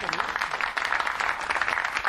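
An audience at a Hindi poetry recital applauds, dense clapping blending with a voice at the start and continuing in uneven waves.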